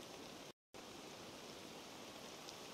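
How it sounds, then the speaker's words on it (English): Steady storm rain in the video game Assassin's Creed Valhalla, a dense even hiss of falling water that cuts out briefly near the start and then continues unbroken, with no voices. "Oh, it's a storm."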